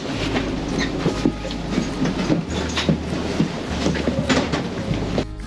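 A steady rail rumble with rhythmic clicking of wheels over track joints, loud and close, with no voices, as a Special Rapid Kitami train departs in reverse direction on the Sekihoku Line in winter Hokkaido.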